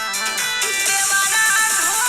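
A short electronic phone ringtone melody plays, bright and tonal, rising slightly in loudness over about two seconds.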